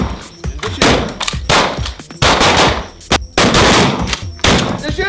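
Pistol shots fired one-handed with the strong hand during a shooting drill, several loud sharp reports spaced irregularly across the clip, close and sharp, with no talking.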